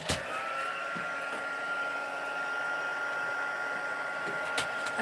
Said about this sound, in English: And grab my heat tool.